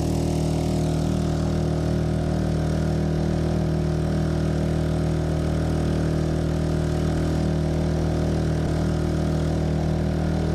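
A Honda 2.3 HP outboard motor on a Pelican Bass Raider boat runs steadily at half throttle, a loud, even buzzing drone close by with no break.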